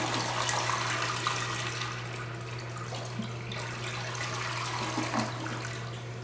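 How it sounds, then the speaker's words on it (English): A household toilet flushing with the handle held down to drain the tank: a continuous rush of running water over a steady low hum, strongest at the start and then easing to a level flow. "You want to flush the toilet and hold the handle down."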